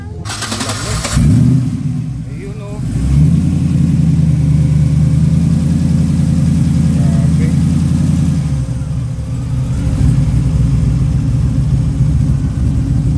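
Modified car on drag slicks, with side-exit dual exhaust, revving at a car meet in Subic: a loud, steady low engine drone, rising in two or three surges and sustained through the clip, with people talking nearby.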